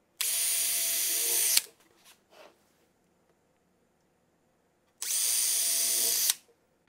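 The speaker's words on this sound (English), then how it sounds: "We drilled our pilot holes, put our screws in" Power drill driving pilot holes and screws for hinges on a pull-out kitchen cabinet shelf, two loud close whirring bursts of about a second and a half each, separated by quiet with faint handling clicks.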